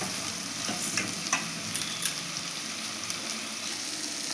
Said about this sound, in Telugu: బీరకాయ ముక్కలు కలిపానండి